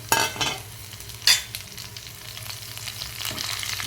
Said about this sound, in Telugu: అన్నీ పోపు వేగుతుంది చూడండి ఇదిగోండి ఇలాంటప్పుడు మనం కరివేపాకు వేసుకోవాలి